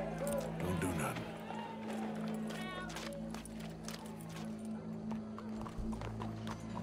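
Horse hooves approaching in the Red Dead Redemption 2 game world, a rhythmic clip-clop of trotting steps over a low ambient background.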